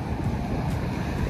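Wind gusts on a cold spring day in a residential Canadian neighbourhood, a brief, constant rushing roar buffeting the microphone with no talk.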